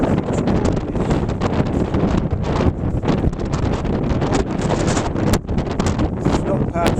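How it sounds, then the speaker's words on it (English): Strong gale-force wind buffeting a microphone outside a Volkswagen T25 van, a loud, continuous roar with gusty rumbling that persists throughout. "It's still windy, so when I pull the camera outside van, you'll probably not hear much because it's blowing a gale"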